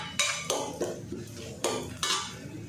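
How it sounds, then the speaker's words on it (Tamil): Cashews and raisins being sautéed for jackfruit payasam, with a spoon clanking and scraping against the pan in about six distinct, evenly spaced strokes, close and clear with no voices. "இப்போ அது கூடவே இந்த முந்திரி போட்டு திராட்சை பழம்லாம் வச்சுருக்கோம்ல, அதில் ஒன்றடியே போட்டு வதக்கி எடுத்து வச்சுக்குவோம்."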